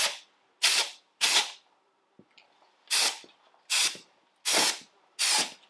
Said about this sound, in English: I'm just going to give that a quick spritz to tidy that up as well. But just very quickly with some brake cleaner.